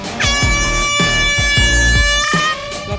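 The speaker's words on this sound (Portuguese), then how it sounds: "Pega a buzina aí, apita, Gru." A boat's horn sounds at a crowded anchorage in loud, insistent blasts, a steady tonal blare broken into repeated pulses with brief gaps, close and dominant throughout.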